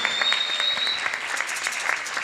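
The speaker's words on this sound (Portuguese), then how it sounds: "eu queria que vocês batessem palmas" An audience of students claps for a visiting researcher, a dense patter of many hands with no break, close and fairly loud.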